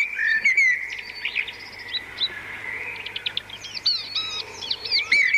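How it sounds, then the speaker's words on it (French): Nightingale song rings out close and clear: rapid whistled notes, chirps and trilled phrases in bursts over a faint low hum, with short pauses between phrases. "on les met ensemble et ça fait une phrase de rossignol"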